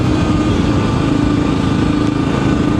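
A Voge 300 Rally motorcycle rides a mountain road in Spain's Sierra del Oro on smooth new tyres, its engine giving a loud, steady drone throughout with no talking.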